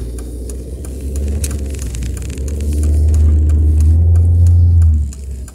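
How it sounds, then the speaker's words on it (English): A car engine idles steadily while warming up, a low continuous rumble that swells louder partway through and then eases off near the end, with no talking. "warm up my car."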